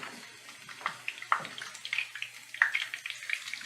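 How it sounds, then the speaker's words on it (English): Potato pancakes sizzle in hot grease in a home kitchen, a fairly faint, crackling spatter with irregular sharper pops throughout. "You have to be careful when you're flipping them because you might splash yourself with the hot grease."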